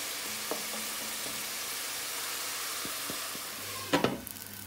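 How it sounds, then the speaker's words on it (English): Onions frying in a pan for aloo gobi, a soft, even sizzle throughout with a few faint utensil taps and a small clatter near the end. "the onions have been cooking away for about eight to nine minutes"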